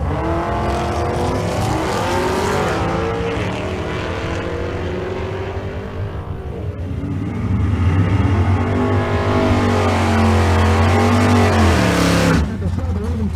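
Drag race launch between a 1983 Chevrolet Malibu wagon and a 2010 fifth-generation Camaro at Race Week in Kearney, Nebraska: loud, sustained engine roar that rises in pitch through the run, with a commentator talking over it.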